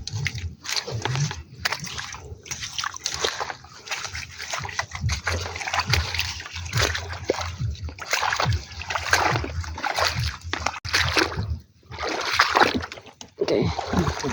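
Water being bailed out of a small boat, with repeated splashing scoops and sloshes in irregular bursts, near and fairly loud, amid some bumping and scraping.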